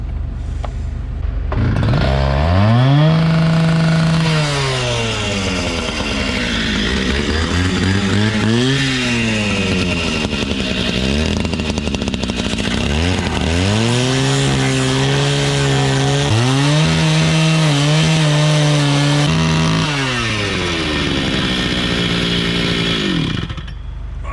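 Two-stroke chainsaw on racing two-stroke fuel in a scrap yard, loud and close, revving up and down repeatedly between bursts of idle across the whole stretch, with no talking over it.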